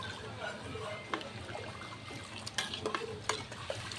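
Food being stirred in a pot, with steady scraping and soft wet swishing over a low bubbling bed, a few sharper clinks of the utensil against the pot near the end.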